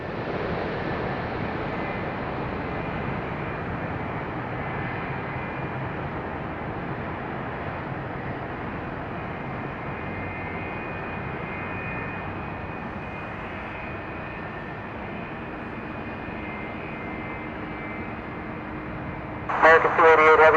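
A heavy jet airliner lands at Chicago O'Hare, a steady broad roar of engines and rushing air lasting throughout, with a brief crackling burst near the end and faint radio chatter in the background.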